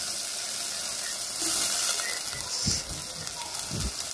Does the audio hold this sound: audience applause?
no